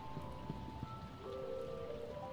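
Soft, steady patter of rain falling on rain-swept woods in a farming video game, faint and continuous, accompanied by quiet sustained musical tones.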